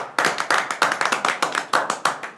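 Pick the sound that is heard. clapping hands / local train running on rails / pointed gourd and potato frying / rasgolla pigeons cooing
clapping hands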